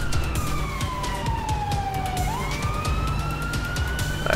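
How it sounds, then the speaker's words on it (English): An ambulance siren in the video game GTA 5 wails, its pitch sliding down then rising again, sounding over a steady engine-like drone with faint clicking noises. "You can hear the sirens in the background."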